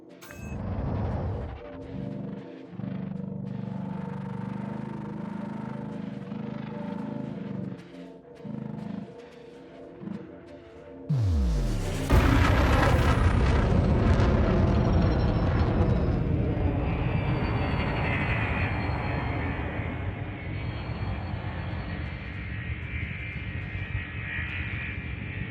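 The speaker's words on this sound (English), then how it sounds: "When you're ready, throttle up and engage Super Cruise." A ship in Elite Dangerous sits in a low, steady hum before engaging Super Cruise: a sudden, powerful roaring surge with a sweeping rising whine, which then holds as a loud, sustained rumble for the rest of the stretch.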